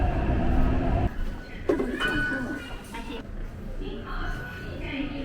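A Taipei subway train rolls along in winter, a loud continuous rumble with rattling carriage noise and a brief squeal, heard from inside the car.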